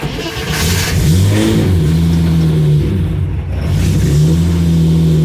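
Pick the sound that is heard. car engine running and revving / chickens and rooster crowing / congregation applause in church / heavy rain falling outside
car engine running and revving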